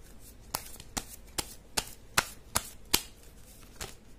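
Tarot cards being shuffled and drawn, a run of seven or so sharp, crisp riffling snaps spaced about half a second apart, close and fairly quiet with no talk.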